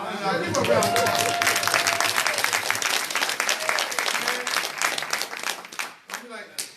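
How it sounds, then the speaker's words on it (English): Sustained crowd applause at a Nation of Islam town hall meeting during a fundraising appeal, a dense wash of clapping that thins out near the end, with a voice speaking through it. "Give her a round of applause"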